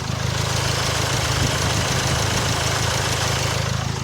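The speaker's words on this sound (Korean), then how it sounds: "그리고 엔진 소리도 특별한 특이사항 없이 잘 들려주는데요. 들려드릴게요." A Land Rover Discovery Sport sits with its engine idling, giving a steady, deep, even rumble up close with no revving and nothing else over it.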